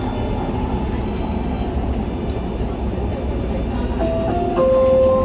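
Interior of a moving train: a steady low rumble and rolling noise throughout, close and constant, with a brief tonal whine or horn-like tone near the end.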